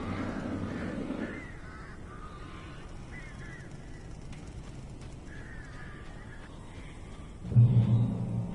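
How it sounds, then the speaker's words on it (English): Hostile birds in the horror game Alan Wake Remastered, giving harsh crow-like caws and squawks that come and go over a dull ambient game soundscape, with a louder burst near the end. "These birds are weird."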